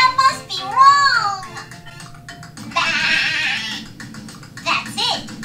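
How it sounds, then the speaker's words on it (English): A fluffy, silky-haired sheep from a children's animal-sounds program gives a short wavering bleat near the start, surrounded by other playful sounds and voices. "This is the sound of a fluffy"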